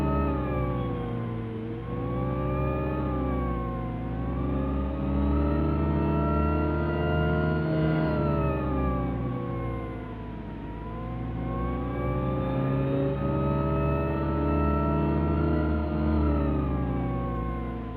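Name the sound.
car engine driving in 3D Driving Class video game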